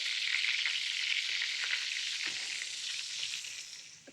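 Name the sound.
lamb, garlic and flour frying in a pan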